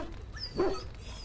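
Dog in the game Dragon Age: Origins gives a single short bark with a whimpering edge, moderately close, set against a quiet background ambience.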